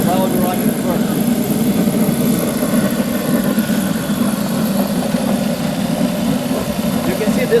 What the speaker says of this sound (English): while we're running the burner